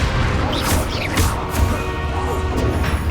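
Spell impacts from a Hogwarts Legacy duel: a dense run of crashing, whooshing magical blasts and thuds from combat against a creature, continuous and loud, with brief shouted voices mixed in.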